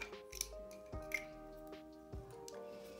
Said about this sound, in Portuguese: a gente corta aqui a pontinha do fio. Bem rente ali, com cuidado, para não cortar a nossa peça